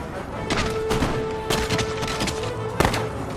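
Several sharp musket gunshot cracks burst out in uneven succession, like scattered volleys in the video game Empire: Total War, over a steady background drone.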